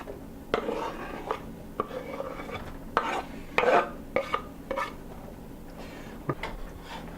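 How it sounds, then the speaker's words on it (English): Fresh zucchini and squash tipped into a pan, giving a handful of scattered clatters and soft thumps of vegetable pieces against metal, close and moderately loud, with a low background hum and no talking. "So now we have plenty of zucchini and squash. We're going to add these."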